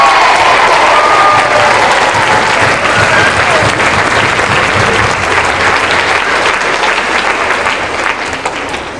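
Audience applause at a Joseph musical performance, a dense, steady wave of clapping from a large crowd that holds loud for the full length and eases slightly at the end, with faint voices mixed in.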